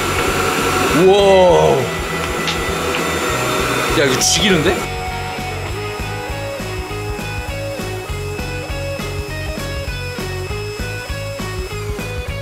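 A powerful air blower, used to pump air into a homemade air hockey table, roars in a loud, steady whoosh nearby, while a man exclaims excitedly over the noise.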